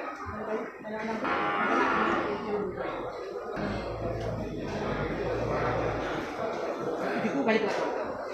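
Bali cattle mooing at a livestock market, several drawn-out lowing calls over a busy background of people talking and crowd noise.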